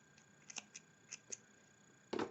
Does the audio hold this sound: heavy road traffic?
no